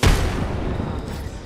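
Grenade blast in the battle-royale shooter Apex Legends: one sharp, heavy boom at the start that decays into a rumbling tail over about a second.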